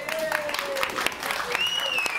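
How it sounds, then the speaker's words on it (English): Wedding guests applaud after a reception speech, a steady dense clapping across the whole moment with a whistle and voices mixed in. "massive round of applause for Robert"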